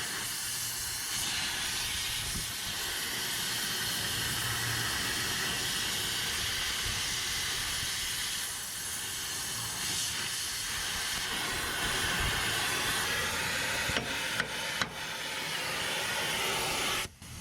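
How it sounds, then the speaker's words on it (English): An oxy-fuel cutting torch hisses steadily and loudly while cutting a part off a 1955 Ferguson 35 tractor, a continuous broad rush with a few sharp pops and crackles near the end. "I'm torching it off."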